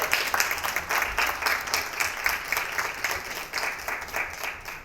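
An audience at a marketing conference panel in Dubai applauds the moderator with sustained, dense clapping from many hands, loud and continuous.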